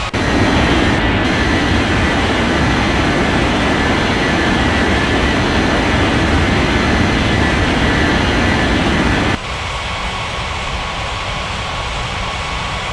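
In an air traffic control video game, an airliner takes off with a loud, steady jet engine roar that drops abruptly to a lower, quieter rumble partway through, and no talk.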